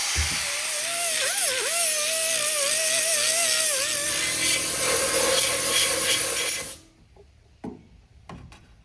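A pipe on the new supercharger intake of a 1968 Camaro is being cut, a loud steady grinding rasp with wavering pitch for about seven seconds, then it stops and only a few faint clicks and knocks follow.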